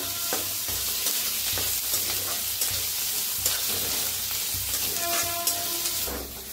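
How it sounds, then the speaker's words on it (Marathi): Seeds with chili, crushed garlic and peanuts roast in a hot pan, giving a steady dry sizzle and crackle with occasional scraping stirs, close and continuous. "ते बी असं भाजून घेऊया छान असं।"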